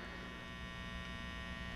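Low, steady electrical hum from the speaker of a simple color organ circuit, faint and continuous, ending in a short sharp click.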